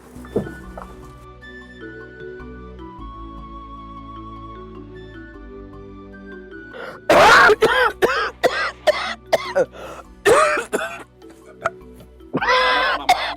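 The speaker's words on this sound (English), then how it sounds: "Mama, you have to stop coughing." A quiet tonal stretch gives way to a burst of repeated coughing, loud and close, in a rough series of hacking coughs with short pauses between.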